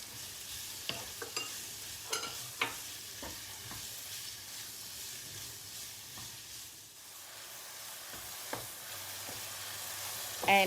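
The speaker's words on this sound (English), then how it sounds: "And stir fry for a while before adding other ingredients." Bunapi mushrooms and black fungus stir-fried in a pan: a steady soft sizzle with repeated sharp spatula scrapes and clinks at irregular intervals, close and fairly quiet, no talking.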